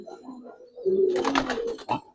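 Giribaz and Army pigeons at a seller's loft coo close by, a soft low murmur rising into a louder throaty burst of cooing and ending with one more short coo.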